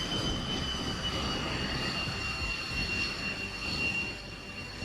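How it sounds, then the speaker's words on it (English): Jet engine roar from an X-47B stealth drone during flight operations on the aircraft carrier Theodore Roosevelt, a steady broadband rumble with a faint high whine, sustained and fairly loud throughout. "the X-47B made history by taking off and landing on Theodore Roosevelt alongside an FA-18 Hornet"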